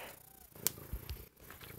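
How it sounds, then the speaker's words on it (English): A very large, heavy 30-pound house cat purring softly and close while sitting on a lap, a low steady rumble with a couple of brief louder bumps. "So that's a cat, by the way."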